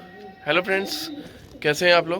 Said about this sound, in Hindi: और आप लोग मेरे पीछे सुन सकते होंगे कबूतरों की आवाज़ आ रही है,